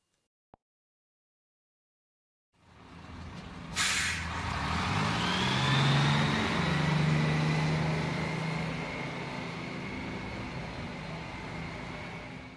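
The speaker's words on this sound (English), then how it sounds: "Bus. A bus holds many people." City bus hissing as its air brakes release with a sharp burst, followed by the steady rumble and whine of the engine idling and pulling away, loud and close with no talk.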